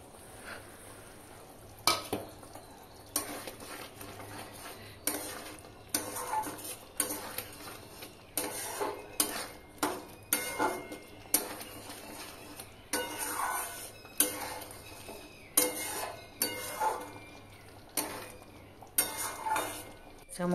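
Ground coriander, cumin, turmeric, chilli and Kashmiri chilli powder are stirred and fried in a pan for a broccoli dish, with repeated metallic scrapes and taps of a spoon against the pan, close and steady.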